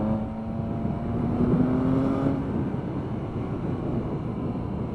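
Triumph Speed Triple RS motorcycle engine pulling hard on a windy country road, a steady droning roar that climbs in pitch briefly then holds, heard from the rider's position under wind noise.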